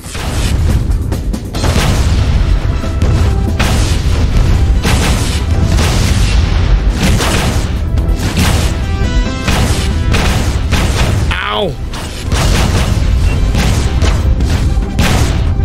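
Gun turrets fire and explode in the video game Silent Sector, a loud, dense run of booms and crashes that barely lets up, with one short gap near the end.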